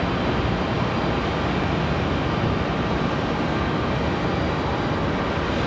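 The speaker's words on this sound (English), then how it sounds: "It's an A321-200 headed off to DFW" An Airbus A321-200 jet departs Raleigh-Durham International bound for DFW, a loud, dense, unbroken engine roar holding steady across the whole stretch.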